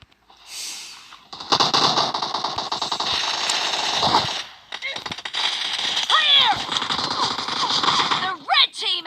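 Sustained automatic gunfire from the PUBG Mobile video game on a library map, dense bursts filling most of the clip with a brief lull midway, loud and close, with game effects layered in.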